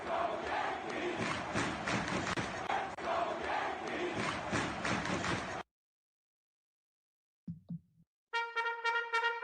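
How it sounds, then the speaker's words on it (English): A baseball stadium crowd at a Yankees vs Mets Subway Series game cheers in a steady roar for about five seconds. It cuts off abruptly, and after a pause come brief thumps and a short tonal ring. "Count is 0-1, and the crowd is cheering."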